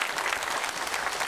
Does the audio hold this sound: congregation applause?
yes